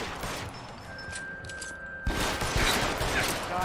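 Video game gunfire in a chaotic firefight, muffled and distant at first with a faint ringing tone, then breaking into a loud, dense burst of close shots after two seconds.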